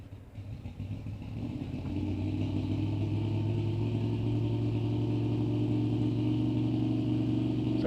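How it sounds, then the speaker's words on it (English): An old pickup truck engine at a drag race spools up in a steady, loud, low rumble that builds after the first two seconds and then holds at a sustained drone, with no talking. "Sounds like we're getting the old pickup truck spooled up over there on the left."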